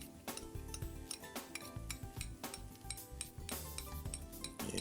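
Garlic goes into a pan with rosemary and thyme while making creamy tomato soup, with repeated metallic clinks and scrapes of a utensil against the pan and a light sizzle underneath.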